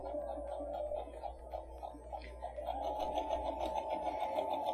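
Sewing machine stitching fabric for a small DIY project bag, a steady continuous mechanical hum with rapid repetitive needle ticks, close and fairly constant with slight surges in speed.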